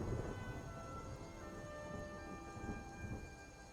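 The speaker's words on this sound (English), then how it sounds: "back on this lovely rainy day in Whiterun" Steady rainfall in Skyrim's Whiterun, a continuous soft hiss of rain with low rumbling underneath, quiet and unbroken throughout with no talking.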